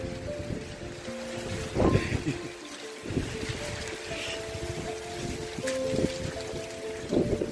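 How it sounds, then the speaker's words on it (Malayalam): Hail pelting down outdoors, heard as dense crackling patter with sharper hits near a car roof, steady throughout and mixed with wind noise and a low rumbling background. "തകർത്ത് പെയ്തോണ്ടിരിക്കുക. ആലിപ്പഴം"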